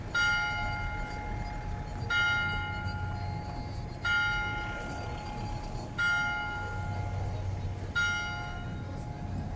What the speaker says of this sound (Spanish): Mientras siguen sonando las campanas, vean nada más, qué preciosura.